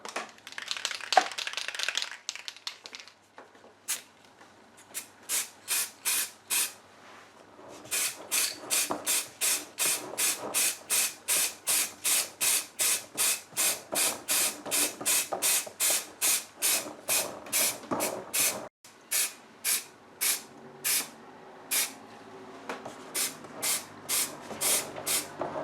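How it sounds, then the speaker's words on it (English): Halfords white primer sprayed from an aerosol can onto a Dinky model car being restored, heard as a long run of short, sharp hissing bursts in steady rhythm, close and fairly loud, with a brief gap partway through. "I'm going to spray the primer using Halfords white primer."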